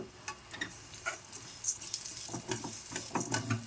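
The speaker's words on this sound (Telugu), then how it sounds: "సిమ్లో పెట్టే వేయించుకోవాలండి ఇవన్నీ" Toor dal fries in a little oil over a low flame for a lentil chutney. A soft, uneven sizzle crackles close by, broken by short stirring scrapes, with no voices.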